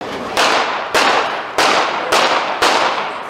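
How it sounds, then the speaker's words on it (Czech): Five sharp gunshots crack at a public gathering where a prime minister is attacked, fired in a fairly even rhythm about half a second apart, loud and close with no speech over them. "Padlo celkom 5 výstrelov."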